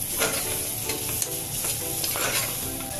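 Spices fry in hot oil for kairi dal, giving a continuous crackling sizzle with a few soft stirring scrapes. Close and steady, with no speech.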